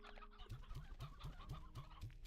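Chickens and roosters in the Slime Rancher 2 game cluck in a steady, evenly spaced series of short calls, faint and alone over a low background hum.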